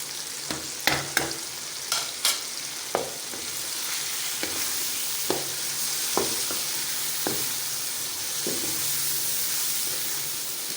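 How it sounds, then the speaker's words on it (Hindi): Chicken frying with chillies, tomatoes and spices in a pan, a continuous bright hissing sizzle punctuated by a series of crisp spatula scrapes and taps, loud early and thinning out toward the end, no voices. "अब 5 मिनट हम इसको अच्छी तरह भून लेंगे।"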